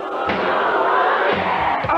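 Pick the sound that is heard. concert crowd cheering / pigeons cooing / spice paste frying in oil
concert crowd cheering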